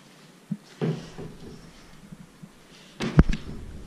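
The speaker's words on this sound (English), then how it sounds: "I'll open the wardrobe." A wardrobe door in a rental apartment bedroom is opened, giving a soft thump and then a short creak, followed later by a sharper knock and rattle. Each sound is close and moderately loud against quiet room tone.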